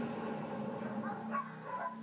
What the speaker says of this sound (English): This dark, filthy, windowless shed houses purebred collie dogs, locked in tiny pens with no food, no water, no bedding, no daylight.